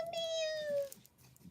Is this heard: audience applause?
no